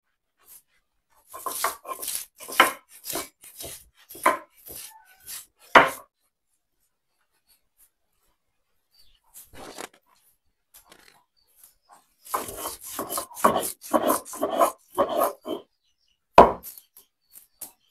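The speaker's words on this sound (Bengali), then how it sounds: "ভালো করে বেটে নিব" Spices or ingredients ground into a paste by hand, heard as close, sharp rhythmic scraping and knocking strokes in quick runs, separated by pauses of silence.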